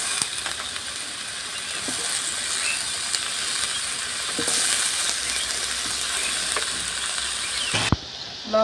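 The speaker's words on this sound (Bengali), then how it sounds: "এবার আমি লাউগুলো দিয়ে দিচ্ছি।" Chopped bottle gourd is cooked in a pan of hot water, giving a steady hiss with scattered clinks and scrapes of stirring, then a sharp knock near the end.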